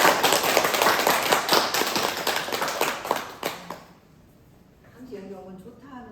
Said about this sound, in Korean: 우리 원장님 모실 때 커다란 박수로 환영을 해주시기 바라겠습니다